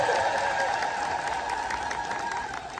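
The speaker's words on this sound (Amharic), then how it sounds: "አቤት እልልታ ስትችሉ አይገርም?" Many worshippers at an Ethiopian Orthodox feast day for Saint Michael ululate again together, a dense, steady wash of high trills that holds loud and even, tapering only slightly at the end.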